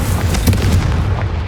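A Confringo blasting spell detonates in Hogwarts Legacy, a single loud, dense boom with deep rumbling low end that rolls on steadily for the whole moment, without a voice over it.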